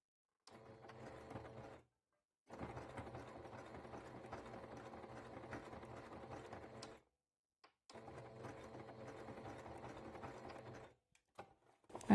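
A sewing machine stitches a small zigzag seam around a patch pocket, including a back-stitch: several bursts of steady mechanical whirring and ticking, separated by brief silent pauses, close and moderately quiet, with no talk over it.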